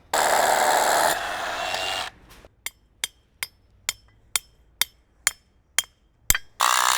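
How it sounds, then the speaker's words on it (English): A loud, continuous drill bores into a concrete porch slab for a post bracket for about two seconds. After a pause come a dozen evenly spaced sharp metallic taps, close and crisp. "that's where we're going to drill our hole."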